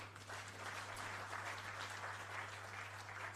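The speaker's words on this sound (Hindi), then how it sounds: "इतने बड़े सांभ्रांत वर्ग अभी ताली बजाकर आनंद व्यक्त करता है।" Audience applause at a book launch event with a Union Home Minister, steady sustained clapping from a large crowd throughout, with a low constant hum underneath.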